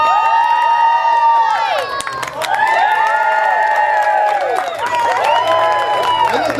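A crowd at the Salt Spring Fall Fair cheers and shouts to choose the winner of a rooster calling contest, loud sustained voices with whoops and some clapping throughout.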